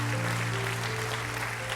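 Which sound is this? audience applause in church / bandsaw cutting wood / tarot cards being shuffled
audience applause in church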